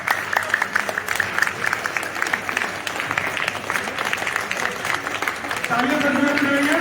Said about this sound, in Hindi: जोरदार ताली देंगे अपने सामने।